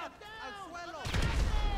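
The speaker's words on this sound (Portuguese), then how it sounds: "Toma uma granada aí pra vocês." A grenade blast in the video game GTA V erupts about a second in as a loud, broad low rumble, following a stretch of someone talking.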